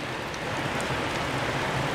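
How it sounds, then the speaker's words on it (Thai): Dense, steady hiss of heavy rain pouring down, unbroken and fairly close throughout. "ฝนตกแล้วครับ"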